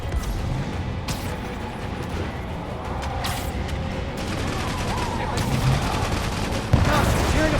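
Dense rapid gunfire from a firefight in Marvel's Spider-Man game, a steady crackling barrage with sharp bursts and impacts layered over game sound, with a voice talking at moments.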